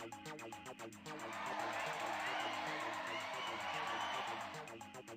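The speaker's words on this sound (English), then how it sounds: "Sounds more like cheering." Cheering from a crowd in the video game Touhou LostWord swells up and holds over a looping, rhythmic game music track, then eases back down near the end.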